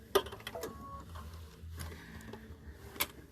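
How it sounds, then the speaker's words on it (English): Sewing machine stitching through thick quilted placemat layers, a soft mechanical run with faint ticks and a couple of sharper clicks, quiet and close, no talking. "It is a lot of layers to sew through, Julie."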